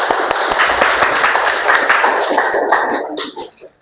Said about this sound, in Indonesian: Ya, silakan tepuk tangan buat Azel.